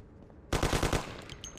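Rapid burst of gunfire in the Mafia video game during a parking-garage shootout: a loud, dense string of about eight evenly spaced shots that starts abruptly after a quiet moment, then trails off into faint ambient noise and small clicks.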